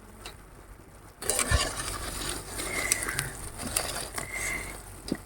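Fried dahi vada being lifted from hot oil onto a plate: a quiet start, then sizzling oil with scraping and clinks of a utensil against the pan, close and steady, no voices.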